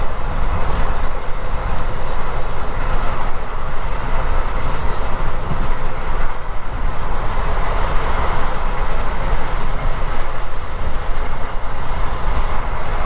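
Onboard the Kurla Express running from Mumbai LTT to Shalimar, Kolkata, the train rolls along the rails with a loud, steady, unbroken rumble and rattle heard from inside the coach.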